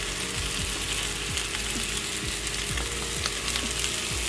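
Potatoes frying in an oiled pan over medium-high heat with red pepper flakes and black pepper, a loud dense continuous sizzle with faint rhythmic mechanical ticking underneath, no talking.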